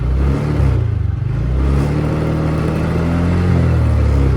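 A TVS Ntorq XT scooter engine revs loudly and close up, a steady buzzing drone that rises and dips in pitch, with no talking.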